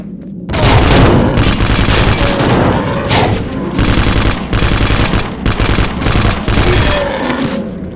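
A PPSh submachine gun in the game Vivisector fires in long, loud, rapid bursts, close and dense, with brief pauses between strings of shots.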